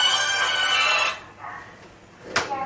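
A phone ringtone goes off during a recorded church sermon, a loud, tonal electronic melody lasting about a second, then a softer repeat before it cuts off, with no talking.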